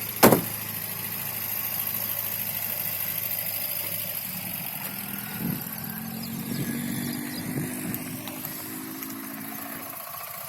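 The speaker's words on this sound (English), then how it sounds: "now start the car" Car engine starting with a sharp crank at the very beginning, then settling into a steady idle that continues close and even, with no talking, during a driving lesson.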